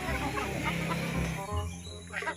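Chickens on a Filipino backyard farm cluck and murmur at feeding time, a steady close-up flock chatter with low rumbling underneath and a few sharper calls near the end.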